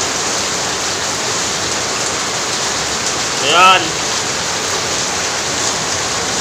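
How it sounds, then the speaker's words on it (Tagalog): Heavy, steady rain pours down in a continuous close wash of noise throughout, while a voice briefly speaks over it midway. "Ang lakas ng ulan ngayon guys."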